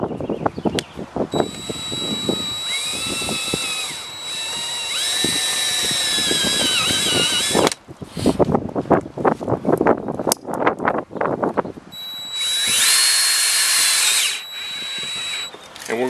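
A power drill whines in bursts, driving self-tapping screws while installing a spa cover lift, with rising and falling motor pitch, separated by clattering handling noises and a brief pause between runs.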